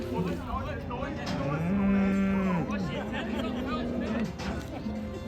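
Dairy cows mooing at a Swiss show and auction, several long low calls rising out of a busy crowd with people chattering throughout.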